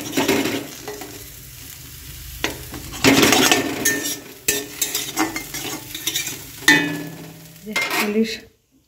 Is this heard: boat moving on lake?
no